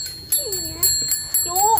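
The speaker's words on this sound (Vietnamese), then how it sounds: "Chuông." A bell rings in a rural home amid fields, several bright metallic strikes at a regular pace, loud and close, with people talking over it.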